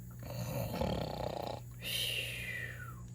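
A voice imitates snoring: a rough, rattling inhale followed by a whistling, falling exhale, close and fairly loud.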